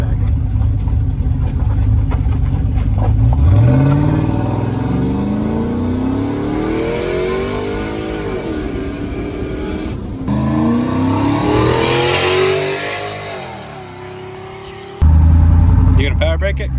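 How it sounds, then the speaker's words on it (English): A turbocharged sleeper car, its turbo hidden in a toolbox, makes loud full-throttle pulls: the engine note climbs steadily through the gears, dips at each shift and rises again, then ends in a sharp loud burst near the close. People talk faintly underneath. "do one pull and then we'll power brake on the way back"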